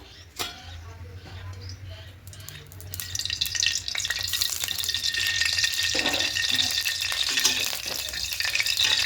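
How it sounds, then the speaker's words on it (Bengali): Oil heating in a wok on the stove for frying, a faint start with a bump, then a soft sizzle that builds and holds steady, with light clinks. "কড়াইটা আবার বসিয়ে দিলাম এবার এখানে আবার তেল দিয়ে দেবো"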